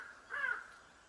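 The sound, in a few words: crow cawing while flying past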